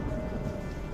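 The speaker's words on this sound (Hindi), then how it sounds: "रामू और उसका परिवार उस पेड़ के नीचे बैठकर बारिश के रुकने और सुबह होने का इंतजार करने लगे" Steady, dense rain pours down through the night in a Hindi moral story, where a family shelters under a tree. The hiss is continuous and even from start to finish, with no voices.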